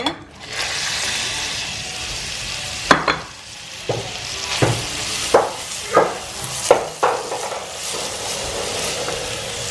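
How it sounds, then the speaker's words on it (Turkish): Grated carrots sauté in melted butter and oil in a pan, giving a steady close sizzle throughout, with several sharp clacks of a utensil stirring against the pan. "Bunları şimdi tereyağında ve sıvı yağında birazcık kavuracağım."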